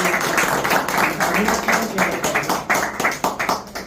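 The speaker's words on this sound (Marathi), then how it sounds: "म्हणून जोरदार एकदा टाळ्या." An audience at a police officer's felicitation event claps in a dense, rhythmic burst of applause, loud and close, with a voice faintly underneath.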